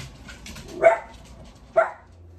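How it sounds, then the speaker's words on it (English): In a home kitchen during vegetable prep, a dog gives two separate close barks about a second apart, with quiet background in between. "The dogs decided they needed to bark for 15 minutes."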